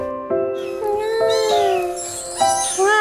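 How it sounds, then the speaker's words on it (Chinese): A kitten meows repeatedly, loud and close, with several rising and falling cries in quick succession and no other sounds. "大黄在里面看着小猫猫， 好暖"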